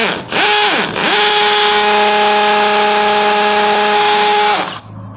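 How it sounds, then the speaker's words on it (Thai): A DeWALT DCD706 brushless cordless drill, set to speed 2, bores into a marked spot with a loud, steady high whine that dips briefly twice at the start, then holds for several seconds and winds down. "นี่ทำการเจาะเลยนะครับ ตามตำแหน่งมาร์กที่เรามาร์กไว้นะครับ"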